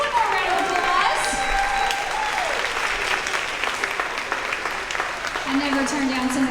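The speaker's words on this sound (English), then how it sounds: "Cole's class one more round of applause" An audience at a third-grade promotion ceremony applauds a class with steady, full clapping throughout, while voices and cheers rise over the applause.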